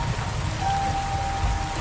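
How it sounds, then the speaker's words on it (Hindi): Steady rain falls without a break, an even, dense hiss close by with a faint continuous tone running through it, and no voices. "उसने सोचा इस बारिश से बचने के लिए वो ये छाता ले ले"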